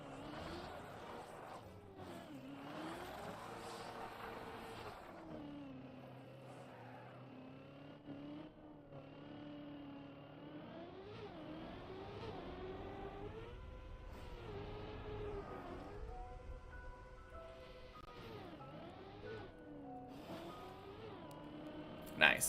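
A car driving in the Trackmania Deep Dip 2 video game, its engine whine rising and falling in pitch as it accelerates and slows through turns, steady and fairly quiet throughout.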